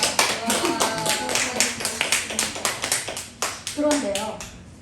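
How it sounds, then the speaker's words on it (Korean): Church congregation at a Sunday worship service clapping in a loose, uneven rhythm of distinct claps, fairly close, with voices calling out beneath and between the claps. "우리 하나님께 영광의 박수 올리겠습니다."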